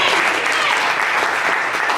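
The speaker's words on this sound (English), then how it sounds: "can we again give him a round of applause?" A youth leadership symposium audience breaks into a round of applause, a thick, steady wash of many hands clapping close and loud throughout.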